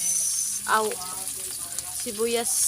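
Chopped onions hit hot oil in a frying pan while cooking pancit canton, giving a close, steady sizzle with brief bursts of voice over it.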